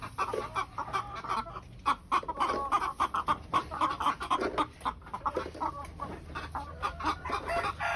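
Hens cluck and chatter busily in a coop while eggs are gathered by hand, a steady stream of close and overlapping cackles with occasional louder squawks.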